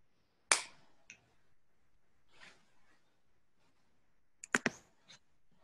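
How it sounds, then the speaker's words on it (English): A sharp finger snap rings out alone in a quiet room, followed by a softer second snap and then a quick burst of three or four snaps close together near the end. "When you feel comfortable, you can open your eyes and snap your fingers."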